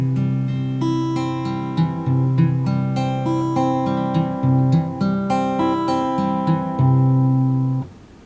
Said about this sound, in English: So a proper arpeggio should sound something like this.